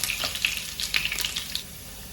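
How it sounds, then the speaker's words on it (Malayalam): Close sizzling of garlic frying in hot oil, with bright crackling bursts and a few spatters, no talking. "ഇനി ആ വെളുത്തുള്ളി ഇടുക. അതൊന്ന് മൊരിഞ്ഞോട്ടെ കേട്ടോ."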